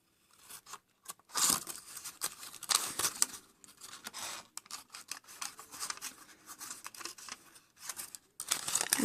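Scissors snipping and crinkling through cupcake liner paper, in a string of close, irregular cuts and rustles separated by brief quiet pauses.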